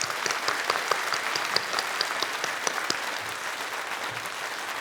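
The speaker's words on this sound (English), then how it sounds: "Could we give them a rousing round of applause?" Steady applause from a large audience at a high school commencement ceremony, honoring the district's teachers; dense, even clapping fills the whole stretch without talk.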